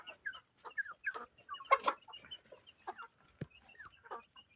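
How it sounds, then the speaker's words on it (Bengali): Native deshi chickens cluck in a poultry farm shed during hot weather, with a series of short, close clucks and squawks in uneven bursts and quiet gaps between them. "এই আমার দেশি মুরগি"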